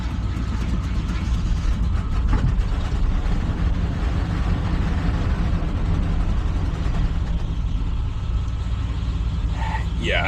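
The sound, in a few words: 1981 C20 Scottsdale truck engine running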